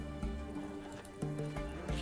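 A horse gallops in The Witcher 3, with a quick rhythmic clatter of hooves under faint game music and ambience, fairly close and steady for a couple of seconds.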